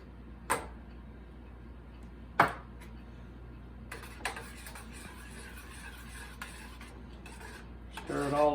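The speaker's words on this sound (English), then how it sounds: "Stir it all together and bring it up to a simmer." A spoon stirring pork ribs in BBQ sauce in a pot, a few sharp clinks against the metal rim spaced seconds apart over a quiet kitchen hum, then a louder scraping at the end.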